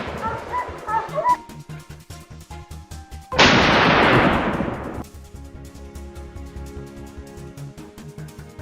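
A single loud rifle shot rings out close by during a wild boar hunt, a sharp crack with a long rolling tail, amid steady rhythmic barking from hunting dogs.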